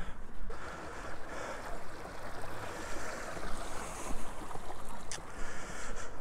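A river rushes and burbles beneath a granite clapper bridge on Dartmoor moorland, a continuous moderate wash of water with a few faint clicks.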